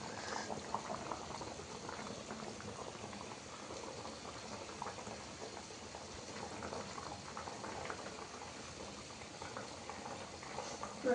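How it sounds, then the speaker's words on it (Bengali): Fish curry broth bubbles in a pot, a faint, steady low boil with soft gurgles and pops, heard close and alone. "দেখো তো ঝোল ফুটছে ফুটছে ফুটছে।"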